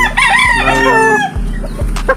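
A rooster kept for growing out lets loose a loud, close crow with drawn-out harmonic calls, followed by a couple of short clucks and low thumps near the end.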